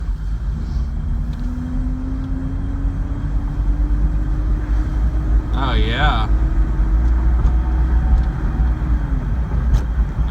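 Engine of a Datsun 280ZX budget drag car driving on its first ride, a steady low rumble with a rising tone under a brief squeal, heard from inside the car while a person speaks briefly.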